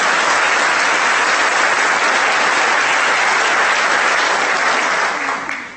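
Sustained, dense applause from a school assembly audience, loud and even throughout, with no talk, fading only at the very end.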